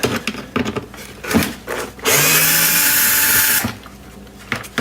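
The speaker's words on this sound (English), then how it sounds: "we have to remove these screws from the intake box here, the air intake box, and these are going to be a T25." A power driver whirs for about a second and a half, a loud continuous whine, backing T25 captive screws out of the air intake box on a 2008 Mini Cooper S R56, surrounded by small clicks and handling noises.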